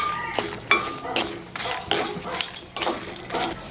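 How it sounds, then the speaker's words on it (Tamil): Black pepper, cumin and chana dal dry-roasting in a pan while a spoon scrapes and clinks against it in a steady series of close, moderately loud strokes. "மிளகு பொரியிற சத்தம் இருக்குது."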